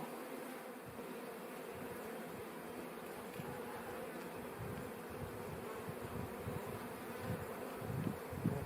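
Honeybees buzzing at a hive during the May honey flow, a dense steady hum of many insects close by, rising a little with fluttering bursts toward the end, no talk.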